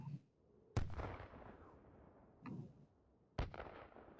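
A 60mm mortar fires in the VR game H3VR with sharp, booming reports, two distinct launches spaced a few seconds apart, each trailing off into a decaying rumble, with a faint thump between them.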